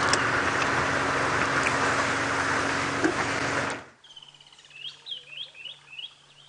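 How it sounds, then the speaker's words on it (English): An African hoopoe calls outdoors on a sunrise safari drive, a short series of soft, evenly repeated hoots following a loud stretch of engine or wind noise that cuts out abruptly. "we've got a beautiful bird, the African hoopoe"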